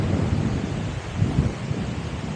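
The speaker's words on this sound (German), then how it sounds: "Es ist richtig windig." Strong wind buffets the microphone on a countryside hike, a constant low rumbling roar with gusty swells and no other clear sound.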